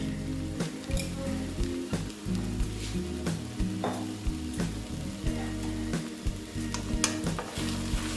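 Banana flower fries in ghee in a pan, a dense continuous sizzle and crackle with repeated spatula stirs and scrapes close by, no talking.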